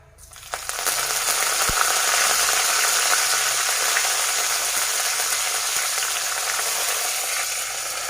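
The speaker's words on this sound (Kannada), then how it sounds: "ಇವಾಗ ಇದಕ್ಕೆ ಕರಿ ಲೀವ್ಸ್ನ ಹಾಕೋತಾ ಇದ್ದೀನಿ" Curry leaves drop into hot oil for vermicelli upma and burst into a loud, continuous sizzle that flares up after a quiet start and holds steady to the end.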